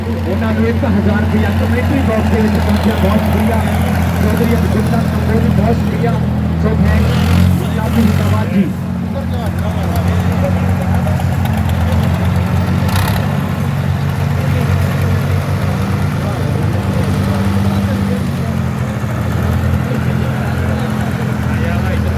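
Two Fiat 480 55 hp tractors idle and rumble continuously at a tow-chain pulling contest, a loud low droning throb throughout, with voices and crowd noise mixed in.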